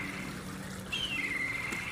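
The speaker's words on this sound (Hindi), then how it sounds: "बहुत ही एहतियात के साथ पानी के अंदर रखे इस पॉलीथीन बैग को खोलें।" A polythene bag holding fish is opened while resting in the water of a biofloc fish tank, giving a soft, close trickling and gurgling of water with a faint whistling tone near the end.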